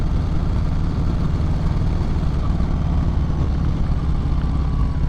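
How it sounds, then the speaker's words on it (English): A 2021 Harley-Davidson Sport Glide's exhaust throbs and growls steadily at low pitch, a continuous close engine rumble with no talking. "this exhaust is, you can hear it throbbing away and growling"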